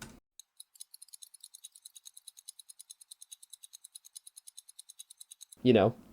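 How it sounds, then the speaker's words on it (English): Light, crisp ticking like a mini stopwatch runs steadily through a music track, evenly spaced clicks repeating quietly and alone, then a short burst of speech at the very end. "we are now using like a stopwatch"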